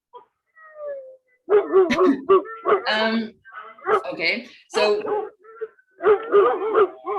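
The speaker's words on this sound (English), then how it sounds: "I hear a lot of dogs" Several dogs bark and yip intermittently in the background while a person talks over them.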